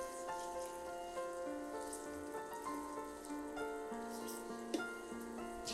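Chicken sizzles softly in a pan as it cooks down with sour yogurt, a low continuous crackle beneath a faint background tone.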